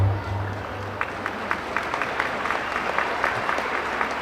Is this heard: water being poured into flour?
no